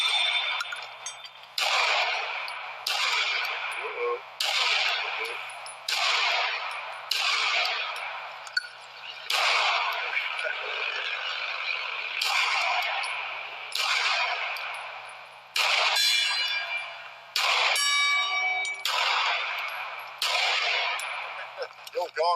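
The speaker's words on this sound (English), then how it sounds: "Let's put a round in the chamber and shoot something." A Taurus G3 pistol fires a long string of single shots, each a sharp crack with a short ringing tail. The shots are spaced roughly a second apart with a few quicker pairs, and steel targets clang between them.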